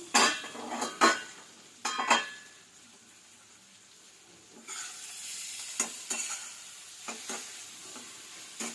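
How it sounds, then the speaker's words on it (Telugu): Tomatoes and drumstick leaves cook in a pan for a Telugu chutney. A spoon stirs and clanks against the pan in a few sharp knocks, and a soft steady sizzle continues beneath later scraping taps, close up. "ఈ టమాటాలు మగ్గుతున్నాయి"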